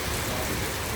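Steady heavy rain during a storm in Bavaria, a dense continuous hiss of falling drops, close and even for a brief moment.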